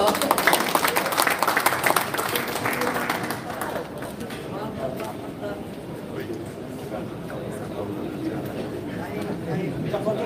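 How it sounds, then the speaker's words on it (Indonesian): A large crowd at a church organization's general assembly applauds loudly, the clapping dense at first and then settling into a softer crowd murmur with voices. "Tepuk tangan dulu dong."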